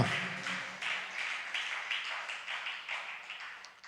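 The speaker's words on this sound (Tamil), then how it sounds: "நல்லா ஆண்டவருக்கு நல்லா கைத்தட்டி ஹல்லேலூயா." A church congregation at a fasting prayer service claps hands together in a steady, moderately fast rhythm, a soft wash of many palms from a distance that fades slightly toward the end.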